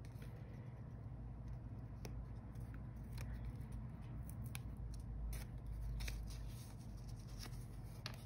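Scissors cutting paper, with faint, scattered snips and rustles set against a quiet, low hum in the background.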